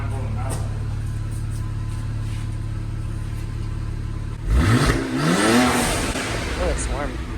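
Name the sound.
BMW 535xi wagon engine revving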